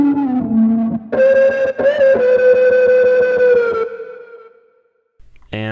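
A sustained synth-like tone played on a keyboard from a sample, with a wobbling, sweeping flanger effect and pulsing echoes, loud and alone, fading out before a brief burst at the end.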